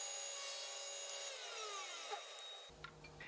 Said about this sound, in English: here I needed to cut some rabbets on the ends of all these pieces